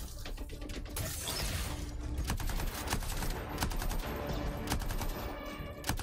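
Rapid, sustained gunfire from a gun in the video game Anthem, a dense rattling stream of sharp shots over mechanical clatter and background game noise, with no speech.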